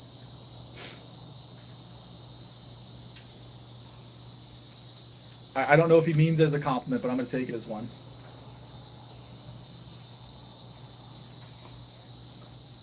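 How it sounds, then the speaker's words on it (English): Insects chirp continuously in a high, steady outdoor drone in the American South, a constant shrill buzz running throughout while someone speaks briefly midway. "Y'all hear them bugs? That's the South for you."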